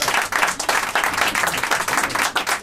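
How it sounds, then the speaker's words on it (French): Audience applause at a conference: a dense, continuous patter of many hands clapping, loud and close, rising and dipping slightly throughout. "on a le droit d'applaudir"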